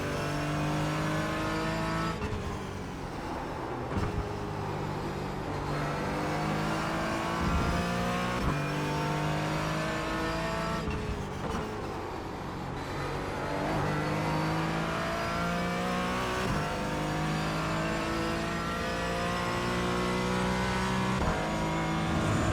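GT4 race car engine lapping Monza in a racing game, loud and close, revving up through gears with repeated upshift drops and rising pitch sweeps, continuous with no talk.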